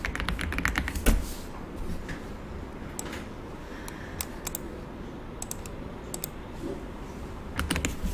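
Computer keyboard keys pressed, including Ctrl and F10 in a Korean word processor, sparse sharp clicks and short taps scattered over a quiet room tone without speech.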